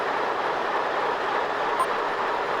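A train in the Trainz simulator passes a railroad crossing on S Burnett St. in Springfield, Ohio, with a steady, loud rolling rumble and hiss of wheels on track, close and unbroken, with no voices.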